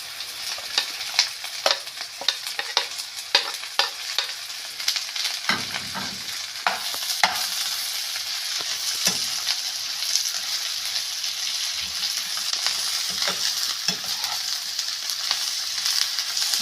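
Onions and peppers frying in a pan for a potato omelette, a steady close sizzle with repeated sharp scrapes and taps of a spoon as they are stirred.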